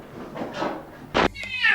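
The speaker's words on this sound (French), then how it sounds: "je vais vous présenter mon chat." A pet cat gives a short meow near the end, close by, following soft thumps and a sharp knock, with a voice murmuring faintly in the room.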